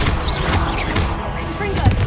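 Fiery Confringo spell explosions in Hogwarts Legacy, a dense run of booming blasts and thuds in a busy soundscape, with a voice talking over it.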